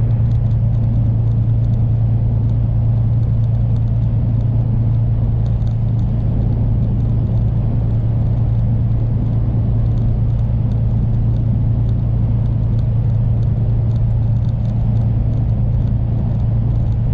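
A truck drives along an open road in gusty wind, heard as a steady, loud low rumble and drone that holds unchanged throughout, with no voices.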